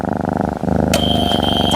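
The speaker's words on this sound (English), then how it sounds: "That is a cat purring." A cat purrs with a steady rhythmic rumble, close and even, played as an audio quiz clip on a morning TV show. A shrill electronic tone cuts in partway through.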